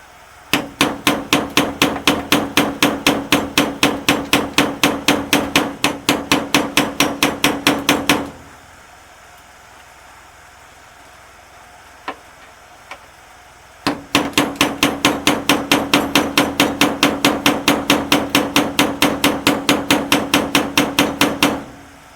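A hammer drives a screwdriver into a barn-find car: long runs of rapid, evenly spaced metallic blows, loud and close, broken by a quiet pause with a couple of lone taps before the steady pounding resumes.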